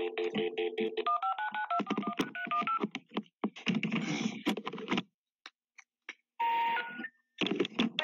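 A phone beeps through a run of dialing tones: quick, steady key beeps, then a pause, broken tone bursts, and a longer tone near the end, with no talking over them.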